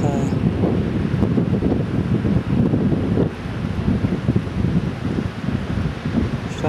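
Wind gusting across open, barren terrain near the Jostedalsbreen glacier in Norway on a cool day, a loud, steady rumble and microphone buffeting that fill the whole stretch without letting up.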